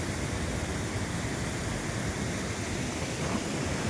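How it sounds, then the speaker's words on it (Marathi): Heavy water pouring at Siddhewadi waterfall, a dense continuous broadband roar that stays loud and steady throughout, close and without talk. "बघा धबधबा."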